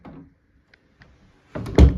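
Interior door swinging shut after a loose hinge repair, a couple of faint ticks and then a solid close ending in a firm thunk, near and brief, no talking.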